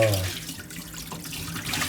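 Water runs steadily from a tap into an overflowing sink, a continuous splashing hiss with a brief tonal sound at the very start.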